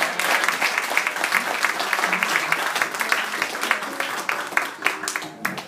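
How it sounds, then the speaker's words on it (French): Audience applause following an inspector's sermon at an evangelical Christian mission service, dense steady clapping that fills the whole stretch with a few sharper claps near the end, close and fairly loud. "Applaudissez bien le discours de l'inspecteur"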